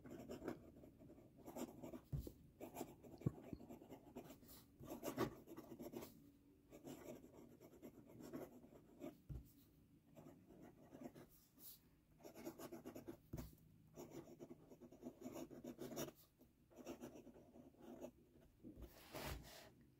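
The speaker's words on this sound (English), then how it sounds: "we're going to do a little writing sample, see how it writes" A Faber-Castell Loom fountain pen scratches softly across paper, with short strokes, small taps and pauses in an uneven writing rhythm, close and quiet with a faint low hum behind it.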